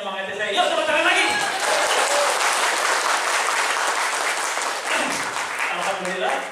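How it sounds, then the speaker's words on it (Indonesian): A seated audience at a large community gathering applauds with loud, sustained, dense clapping that swells and holds for several seconds, with a few voices briefly at the start and end. "Yuk tepuk tangan lagi!"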